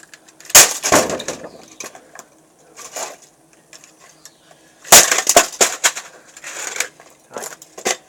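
A vintage Compaq computer being smashed: loud, close cracking and crunching impacts in two heavy bursts, each followed by scattered smaller knocks and rattles of breaking plastic and parts, no talking.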